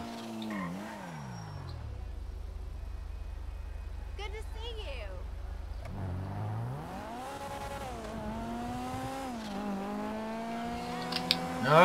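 A 2016 Honda NSX drives in GTA 5, its engine rising and falling through revs with gear changes and a brief tire squeal, a steady low drone partway through, and a voice talking over it.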